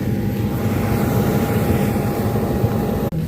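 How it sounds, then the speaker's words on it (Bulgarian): A passenger airplane's engine runs up on the ground, a loud, steady low roar and whine heard from nearby without a break. "Хора, пуснаха двигателя."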